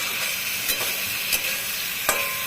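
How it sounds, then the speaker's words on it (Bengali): Spice paste and potatoes frying in oil in a pan for a light Katla fish curry, a steady close sizzle broken by a few sharp scraping stirs, with no voices. "এখন পুরো মশলা ভাজা ভাজা হয়ে গেছে, তেল ছেড়ে দিয়েছে।"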